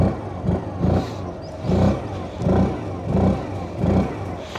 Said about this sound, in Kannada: ಎಕ್ಸಾಸ್ಟ್ ಸೌಂಡ್ ಇಷ್ಟ ಆಯಿತು